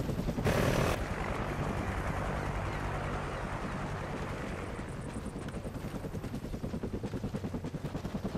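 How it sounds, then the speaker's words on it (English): A friendly helicopter in the Call of Duty: Ghosts Kill Confirmed mode thumps in with a steady, rapid rotor chop that grows more rhythmic, joined by a brief burst of game noise near the start. "Friendly chopper inbound."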